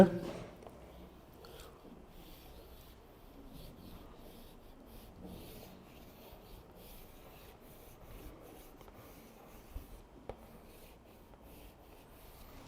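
A pen scratches steadily across paper as traditional Mongolian script is written by hand, a faint, close rubbing texture with small pauses between strokes against a quiet room.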